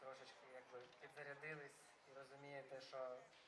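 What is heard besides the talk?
No everyday noise stands out behind the speech.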